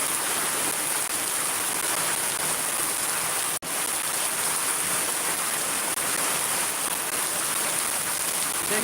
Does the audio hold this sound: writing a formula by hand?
no